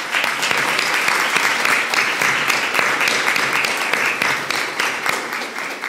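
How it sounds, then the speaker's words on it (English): A large audience at a university medical school awards ceremony applauds, sustained dense clapping that fills the hall evenly for about six seconds. "Please join me in a round of applause."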